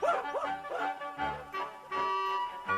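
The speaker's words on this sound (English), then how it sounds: "And Timmy went woof woof" A dog in a Famous Five audio story yips and barks several times in quick, bouncy bursts, close and prominent, mixed with short whimpering calls and no speech.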